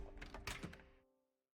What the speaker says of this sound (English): I got to my feet, opened the door